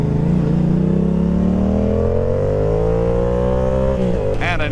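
Loud, rising engine whine from fast sport motorcycles, including a KTM 1290, revving up together on a group ride, pitch climbing steadily before a brief shift near the end; close and continuous.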